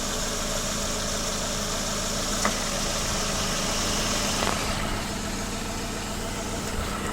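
A Mitsubishi Lancer Cedia engine idles steadily with its two radiator fans running, a constant loud broadband whir and hum with no clear breaks.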